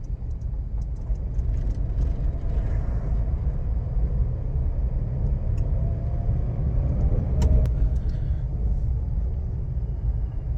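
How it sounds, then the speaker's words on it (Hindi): A manual car pulls away in second gear as the accelerator is pressed, giving a steady, loud engine and road rumble heard from inside the cabin throughout, with no voices over it. "अब छोड़ो पूरा क्लच, एक्सीलेटर दबाओ"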